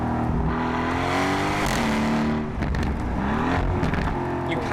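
An Aston Martin Vantage turbo engine, in Lime Essence or Flugplatz Blue, rumbles with a steady, deep AMG-style tone, rising and falling slightly in pitch as it revs.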